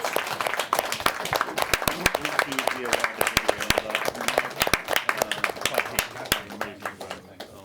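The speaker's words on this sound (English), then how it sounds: "we'll have one final round of applause for our contestants" Audience at a live restaurant competition final giving the contestants a round of applause, with sharp individual claps standing out over a crowd, loud and close, lasting the whole stretch.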